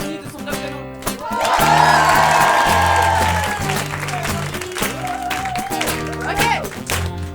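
A concert audience at a 2019 show in Lyon applauds the singers over loud ongoing music, the clapping blending into a sustained wash that swells early and then eases off.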